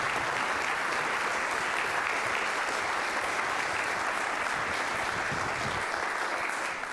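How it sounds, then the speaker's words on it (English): A concert audience at a university trombone choir spring concert claps steadily in a dense, sustained round of applause that holds at an even level throughout, with no voices over it. "What a round of applause for Miss Debony"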